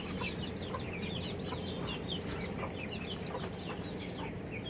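Pet chickens cluck and chirp steadily in a short burst of busy, overlapping calls as they are let out of their coop, close by with constant background noise and no talking.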